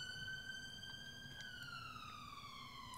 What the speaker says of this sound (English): There's another ambulance going by me.